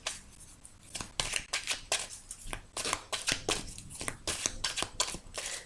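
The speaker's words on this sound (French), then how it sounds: "Allez, on va bien mélanger, hein, parce que c'est important de bien mélanger." Tarot cards are shuffled by hand in quick, crisp riffling bursts, close and fairly quiet, repeating in an irregular rhythm with short gaps.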